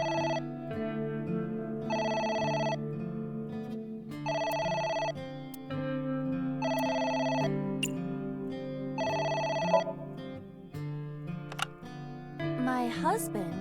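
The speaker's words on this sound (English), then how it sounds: "It's the phone. Maybe try picking it up?" A telephone rings in the video game AI: The Somnium Files, sounding in five evenly spaced bursts over a steady musical background, with a short clatter at the end.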